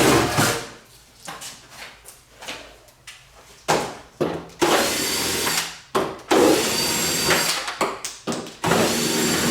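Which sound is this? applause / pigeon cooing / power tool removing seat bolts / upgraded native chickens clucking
power tool removing seat bolts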